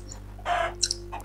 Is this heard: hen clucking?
yes